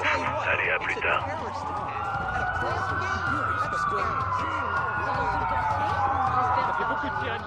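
Police sirens wail continuously in the Watch Dogs video game, a rising and falling tone at moderate distance under busy game ambience, with voices talking over it.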